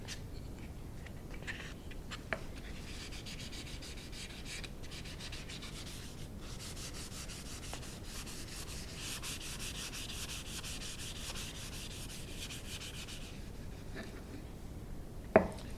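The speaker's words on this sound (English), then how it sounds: "I'm going to get my wood pieces here sanded with 320 grit." Small wood pieces are hand-sanded with 320 grit sandpaper, a soft, steady scratchy rubbing that continues quietly and closely, with a couple of faint knocks.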